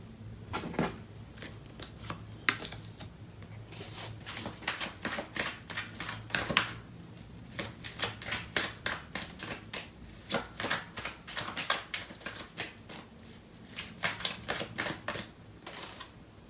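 A tarot deck is shuffled up close, producing a long run of rapid, crisp card flicks and riffles in quick irregular bursts with a brief lull partway through.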